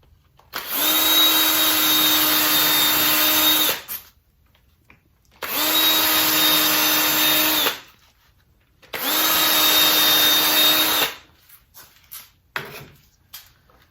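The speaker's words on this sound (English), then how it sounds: "make a pilot hole there" Three long bursts of a power drill boring pilot holes into wood for a planter built from a utility pole, each about three seconds of steady whine with short pauses between, followed by faint clatter.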